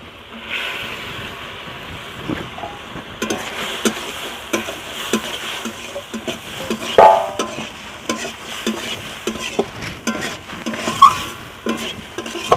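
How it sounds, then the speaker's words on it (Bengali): Earthworms and cooked spices fry in a wok, with soft sizzling throughout and repeated scraping, clattering stirs that grow busier and louder partway through. "এখন ভেজে দেখা কেঁচোগুলো এখন আমি কড়াতে উঠিয়ে দিচ্ছি"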